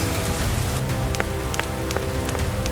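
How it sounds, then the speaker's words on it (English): Steady rain falls against a window, a dense even hiss with scattered brighter drop taps over a low rumble throughout. "It starts to rain"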